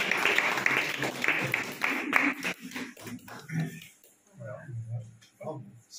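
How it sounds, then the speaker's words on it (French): An audience applauds at the inauguration of a film festival, a crowded burst of clapping for the first few seconds that thins out as a voice begins speaking over the fading applause. "Et là, on applaudit."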